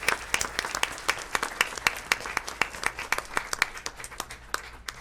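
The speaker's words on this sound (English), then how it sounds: "How about a round of applause for these guys?" Junior high students receive applause from an audience at a school district board meeting, with a burst of distinct individual claps of moderate loudness that continues for several seconds and has no speech over it.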